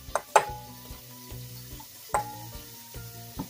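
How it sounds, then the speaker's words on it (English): Burger meat frying in about a tablespoon of oil in a pan over medium heat, a faint steady sizzle with a few sharp clinks and scrapes of a utensil against the pan. "I have about a tablespoon of oil over medium heat, and I'm just cooking up the burger meat"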